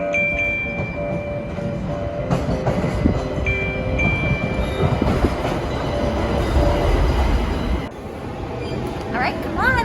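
A Pittsburgh subway train rolls into the platform with a steady loud rumble, metallic screeches and squealing tones rising over the din, a continuous close roar throughout.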